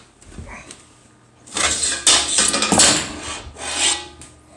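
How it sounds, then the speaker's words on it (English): Glass panel sliding and scraping free of a broken oven door during a repair, a close, steady rasping rub lasting a few seconds after a faint lead-in. "and then I can remove the glass."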